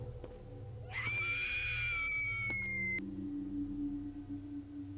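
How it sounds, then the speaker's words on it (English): A high, sustained scream rings out in the horror video game Education, loud for about two seconds over a low droning ambience, then cuts off, leaving a lingering hum. "Not sure who that was screaming,"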